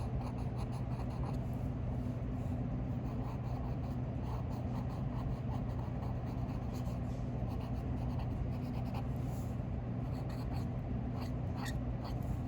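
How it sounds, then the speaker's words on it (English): A coloured pencil rubs and scratches steadily across paper during colouring, with continuous close strokes and small squeaky accents recurring throughout. "that's definitely the pencil squeak"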